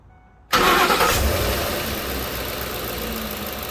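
A 2009 Ford F-150 pickup engine with 250,000 miles cranks and catches abruptly, then settles into a steady, rumbling idle that continues without talk.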